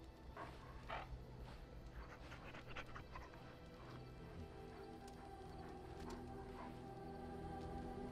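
Panting dog, the mabari companion in Dragon Age: Origins, breathing in quick steady huffs with a faint whimper, close and moderately quiet over a constant hum of game ambience.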